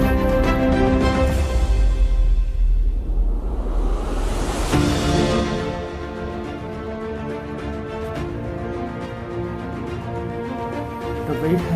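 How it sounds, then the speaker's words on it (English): Yarravaram or Jadiguda waterfall, heard as a broad steady rush of falling water, loud at first and then settling to a softer continuous roar. "As you can see, this is the waterfall we have been traveling."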